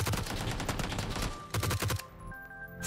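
G36C rifle with a vertical grip fired in a video game, a rapid automatic burst that pauses briefly, fires a second short burst, then stops and leaves a faint ringing tail.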